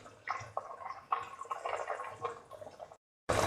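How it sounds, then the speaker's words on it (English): Rice rinsed by hand in a bowl of water, with soft sloshing splashes and drips coming in short repeated bursts, close and fairly quiet, ending in a brief louder pour of water. "Take 1 cup of rice and thoroughly wash and soak it"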